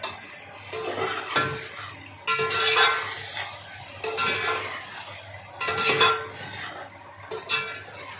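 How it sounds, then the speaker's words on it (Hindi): Boiled chicken frying in a pot for pulao, sizzling in bursts as it is stirred, with metal spoon scrapes and clinks against the pot, no voices. "ये जो चिकन मैंने उबाल के रखा था उसको डाल के ना साथ ही इसकी 2 को भी फ्राई करना है।"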